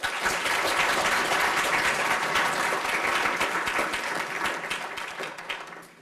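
Dense audience applause after a three-minute thesis competition talk, a loud sustained wash of many hands clapping that tapers off at the end.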